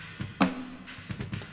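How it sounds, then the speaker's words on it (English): Snare drum picked up by the top microphone during mixing: a few soft, close hits with one sharper crack, plus some quieter cymbal bleed in a short, sparse pattern. "First we have a snare top."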